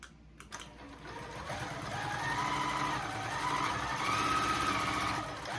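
A sewing machine stitches quilting on a Grace Qzone queen frame, giving a steady, continuous mechanical hum and rapid needle rhythm that holds throughout at moderate, close range, after a few brief knocks at the start, with no talk.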